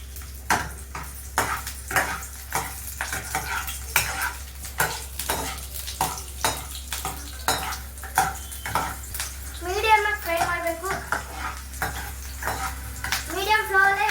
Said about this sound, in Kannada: ಎಣ್ಣೆ ಕಾದಾದ್ಮೇಲೆ ನಾವು 4 ಹಸಿಮೆಣಸಿನ್ಕಾಯಿ ಕಟ್ ಮಾಡ್ಕೊಂಡಿದ್ವಲ್ಲ ಅದನ್ನ ಹಾಕ್ಬೇಕು.